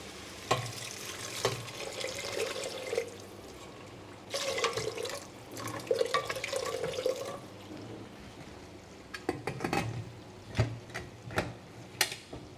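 Water poured over split peas in a pot before pressure cooking, heard as bursts of splashing and trickling with a few clinks in between, close and fairly quiet, with no talking.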